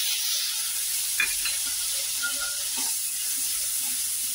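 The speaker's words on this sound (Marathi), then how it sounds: "चांगले मसाले पण परतून घेऊ" Cumin and spices sizzling as they are sautéed in a pan, a continuous bright frying hiss with occasional light spoon stirring taps, close up and steady, no voices.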